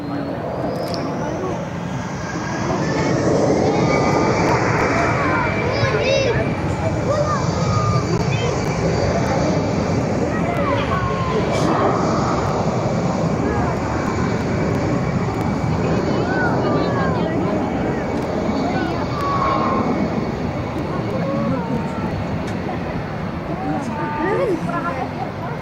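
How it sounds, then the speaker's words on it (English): A Volotea Airbus A319 jet departs Barcelona airport, its engines producing a broad, sustained roar that builds and holds while someone talks over it. "This is a 19-year-old aircraft, and of course it's an Airbus A319."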